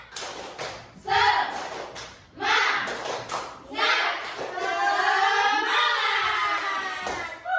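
A class of children claps and chants the rhythmic "tepuk semangat" routine in a school lesson. Voices and sharp claps come together in rhythmic bursts, and sustained chanted speech runs throughout.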